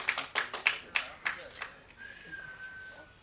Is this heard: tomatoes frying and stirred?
no